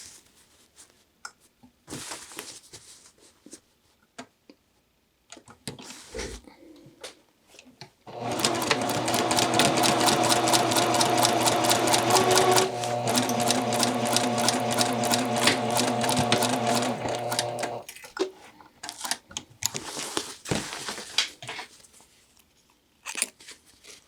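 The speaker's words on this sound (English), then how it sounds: "I'll go to the machine to stitch this." Sewing machine stitching a skirt vent, a steady fast whirring run of several seconds with a short pause partway, preceded and followed by quiet handling of fabric.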